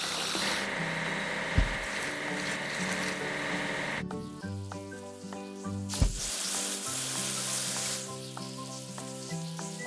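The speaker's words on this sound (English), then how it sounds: "Let's wash the dining car." A cartoon train video game plays a steady hissing, spraying wash sound while the dining car is cleaned, layered over bright looping game music with two sharp thumps.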